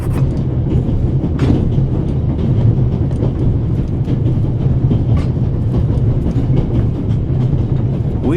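Steady rumbling train rolling along a Swiss railway in the game The Raven Remastered, a continuous low clatter with faint periodic clicks, close and fairly loud throughout.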